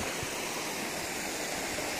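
A pretty creek on a Santa Rosa hiking trail, water flowing in a steady broadband rush close by, continuous and even with no other sounds.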